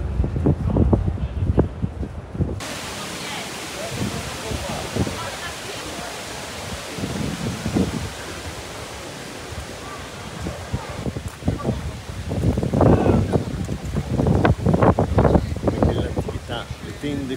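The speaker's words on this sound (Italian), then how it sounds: "C'è giusto un po' di vento oggi." Wind blows outdoors on a grey day, a steady broadband rush buffeting the microphone, swelling and gusting louder toward the end, with a voice speaking briefly at the start.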